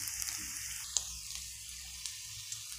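Garlic frying in a pan for an egg bhurji gravy, a quiet steady sizzle with a few small pops and a brief clink, no voices.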